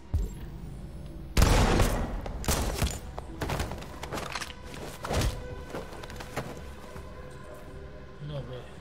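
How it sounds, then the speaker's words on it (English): Gunfire in Detroit: Become Human: a loud opening blast and then a series of sharp shots and heavy thuds spread irregularly over several seconds, with speech mixed in. "Simon's been shot!"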